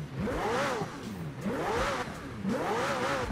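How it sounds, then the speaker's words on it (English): A McLaren Senna engine in Forza Horizon 4 revs up and falls back three times in a row, loud and close, each rise ending in a rough rasp. "I'm going to kind of give you some revs here."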